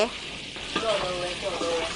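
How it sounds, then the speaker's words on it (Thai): Pork stir-frying in a pan for khao soi noodles gives a steady loud sizzle with scraping stirring sounds, while a person talks faintly at times. "ผัดหมูทำข้าวซอย"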